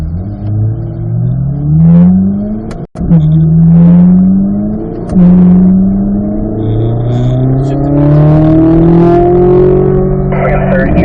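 A car accelerates hard on a race track, its engine climbing repeatedly through the gears with loud, close rising revs, a brief cut at a shift, and a steady rumbling drone between pulls.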